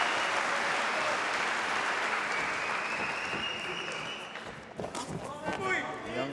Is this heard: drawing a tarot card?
no